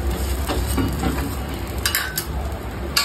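Puran poli fries in ghee on a pan as it is flipped: a continuous close sizzle and crackle with light scraping and clinks of a utensil against the pan.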